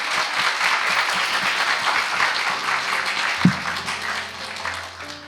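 Studio audience claps in steady, dense applause for several seconds, with one sharp thump partway through before the clapping tapers off.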